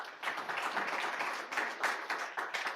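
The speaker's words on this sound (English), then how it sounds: "Clap for yourselves." A youth forum audience claps for themselves, a moderately faint but dense burst of many hands with uneven surges and a few louder claps near the end.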